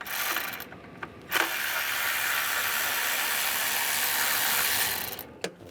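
A 10mm socket ratchet works a valve cover bolt on a 2011–2018 Ram 1500, giving a loud, sustained rasping buzz of several seconds with sharp clicks at the start and end.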